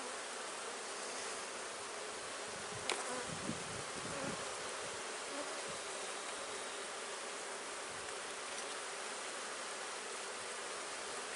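Honeybees buzz during the inspection of an open beehive, a steady, dense hum of many insects close by, with a few soft knocks and bumps of frame handling early on. No voices are heard.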